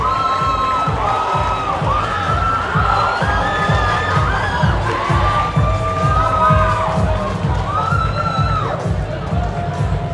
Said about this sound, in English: a round of applause for Rita Gabrito, ladies and gentlemen